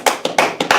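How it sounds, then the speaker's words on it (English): Audience clapping at a church Sabbath service, a short burst of hand claps in several quick, uneven waves, close and loud with no voices over it. "Clap it up for the Round Table."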